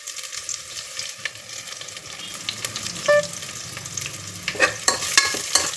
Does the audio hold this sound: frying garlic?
yes